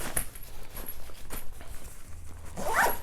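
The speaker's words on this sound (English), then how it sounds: "I did overstuff it in this case, so compress it down, you can zip it," An overstuffed Evergoods Transit Packing Cube 10L is zipped closed. The close, rasping zipper runs steadily with brief scuffs and a final quicker pull.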